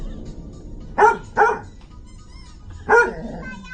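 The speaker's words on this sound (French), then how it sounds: "Le chien se met à aboyer sans raison" A dog gives three sharp barks, two in quick succession and then a third after a pause, close by against a quiet, low background hum.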